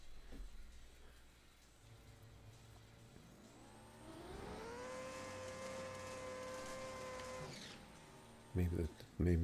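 A drag racing car engine in a video game revs up and holds a high whine through several seconds, then cuts off with a couple of loud thumps at the end.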